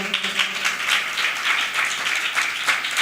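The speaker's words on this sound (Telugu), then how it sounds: "ఒకసారి అందరూ చప్పట్లు కొడదామా?" A church congregation at a Sunday worship service claps together in steady, dense applause, loud and continuous throughout with no voices over it.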